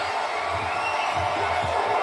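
A dense wrestling crowd in an arena in Charleston roars and cheers steadily, a loud continuous wash of voices with a few whoops rising out of it.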